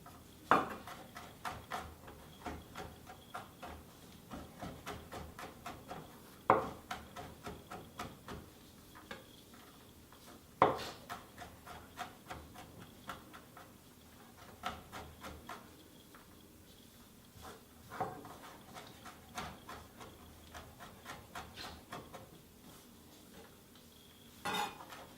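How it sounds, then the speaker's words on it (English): A knife finely chops ingredients for a mixed bean chilli on a board, quick irregular taps with occasional sharper knocks and clatter, close and fairly quiet. "Give this a fine chop."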